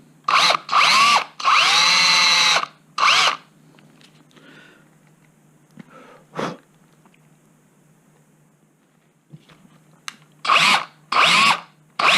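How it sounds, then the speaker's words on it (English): Power drill boring holes into a Mora knife, in several loud bursts: a few short whirs, then a long sustained run, with quiet handling and scraping in between and more short bursts near the end. "and drill in"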